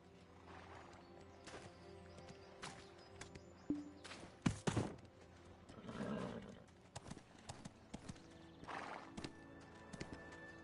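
A horse in the Black Desert video game, with steady clip-clop hooves and a loud whinny in the middle, heard over quiet game ambience.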